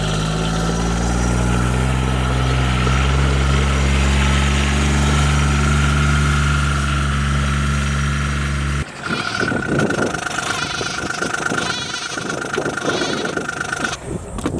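A Gator utility vehicle engine runs loud and close, a steady low idling drone with strong harmonic hum that shifts abruptly into a rougher, rattling running sound with vibration for the rest of the stretch.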